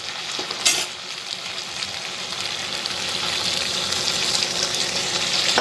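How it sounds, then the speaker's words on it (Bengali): Water hits a pan of fish curry fried in masala and oil, with a sharp splash followed by loud, continuous sizzling and bubbling that builds steadily. "এবার এটার মধ্যে একটু জল দেব"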